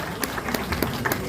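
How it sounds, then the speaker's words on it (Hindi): Audience at a society's awards function clapping, a continuous wash of hand claps with a few sharper individual claps standing out, moderately loud and steady. "तालियां बहुत बहुत बहुत ज्यादा जोरदार"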